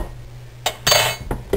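A metal teaspoon taps and clinks against a glass jar while adding Chinese five-spice powder, a few short, close clinks spaced over a second and a half with quiet between them.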